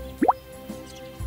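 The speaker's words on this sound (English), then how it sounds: "Let's plant the seeds and water them." Short watery drip and plop effects play as planted seeds are watered in the Buru's Four Seasons video game, two quick bright droplet sounds, then a softer plop over a quiet background.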